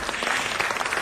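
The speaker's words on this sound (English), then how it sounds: "applaud, right?" A short stretch of dense, steady clapping from an audience at a city council meeting, even and continuous with no voices on top.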